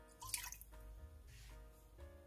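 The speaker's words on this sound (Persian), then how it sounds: "یک پیمانه آبو میریزم داخل قابلمه." A cup of water is poured into a cooking pot while making raspberry jam, giving a short, soft splash and trickle up close, faint and brief with no voices.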